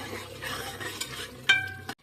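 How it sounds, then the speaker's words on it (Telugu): A spoon scrapes and stirs a coconut-piece masala curry in a pan, with a soft sizzle and a sharp clink near the end before it stops abruptly. "ఇవంతా బాగా కలిపేద్దాము"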